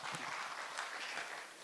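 A church congregation claps during a Sunday service to welcome a young man just discharged from military service, a soft, steady patter of many hands heard from a distance and lasting under two seconds.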